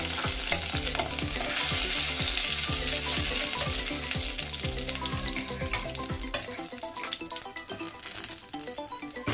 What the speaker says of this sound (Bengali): তেলে দিচ্ছি 1 চামচ কালো জিরে, 2টো শুকনো লঙ্কা,